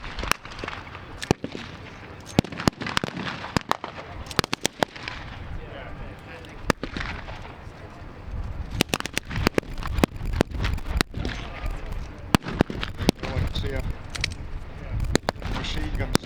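Blank-firing machine guns and rifles crackle in a staged battle reenactment at the Bovington Tank Museum in Dorset, with sharp reports in irregular bursts and scattered single shots over a distant crowd murmur and a commentator's voice.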